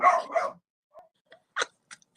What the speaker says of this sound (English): There is no inside voice with that dog.